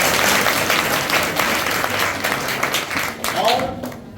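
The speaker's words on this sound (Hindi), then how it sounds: "ताली बजाकर अपने महबूब" Audience applause at a village gathering held with a police captain, sustained dense clapping throughout that fades slightly near the end, with a faint voice coming in at the close.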